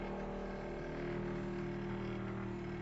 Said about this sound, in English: This motor is running